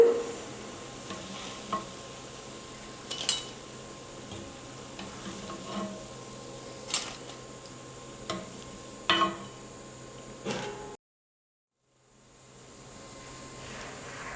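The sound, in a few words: deep-frying chana dal bonda fritters in oil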